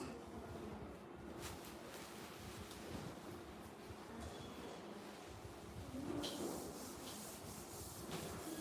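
Steady rubbing and scrubbing on a surface during cleaning, a continuous close abrasive swishing with a slightly louder burst near the end, no voices.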